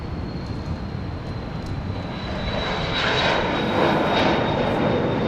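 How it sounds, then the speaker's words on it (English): An incoming Southwest airliner on approach to Dallas Love Field on a rainy day roars with a broad, steady engine rumble that swells louder toward the end, with no voices. "We have an incoming flight from, looks like Myrtle Beach"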